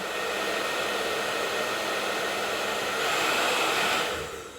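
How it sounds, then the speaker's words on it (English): A hair dryer on a low setting blowing steadily with a soft, even whoosh, rising briefly before it trails off. "So you need a hairdryer. Any old hairdryer will do. And then you want to put it on a low setting."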